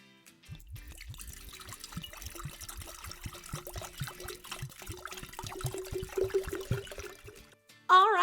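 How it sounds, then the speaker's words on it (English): Water poured into a Princess Peach squishy toy holding a pink stretchy unicorn squishy, a steady trickling and splashing pour lasting several seconds, followed by a brief louder burst at the end. "Now to add our water."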